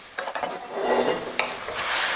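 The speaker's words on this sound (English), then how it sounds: "now I'm going to add the veggies" Vegetables drop into a hot pan for South Indian sambar, a few clattering knocks followed by a swelling, steady sizzle, close and fairly loud with no voices.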